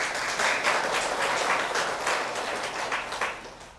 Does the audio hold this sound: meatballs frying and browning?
no